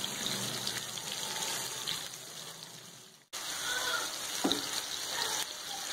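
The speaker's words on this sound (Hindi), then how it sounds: "चूल्हा हमने बिल्कुल हल्की आंच पर रखा हुआ है, इसको हम फ्राई करेंगे।" Chicken liver fries in oil on a tawa over a very low flame, a soft steady sizzle that briefly cuts out, then resumes with a light scrape of stirring.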